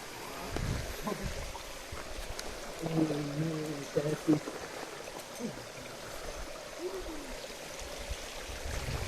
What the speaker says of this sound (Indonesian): Kita melawan arus ini kawan-kawan. Lawan arus sungai.